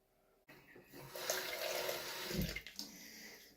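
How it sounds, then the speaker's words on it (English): A kitchen sink tap turns on abruptly and runs steadily, with a hissing gush of water that shifts slightly as a container fills, close and fairly quiet, with no talking. "we need to take 50 ml of water, which I will do at the sink"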